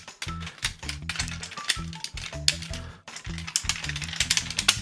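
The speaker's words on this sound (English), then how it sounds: "Fold the heels in with a loud click. Ratchet those feet." Plastic clicks and ratcheting from a Tobot Titan transforming toy robot as its feet and heels are folded and snapped into place, a close, busy run of sharp mechanical clicks with brief pauses, no talking.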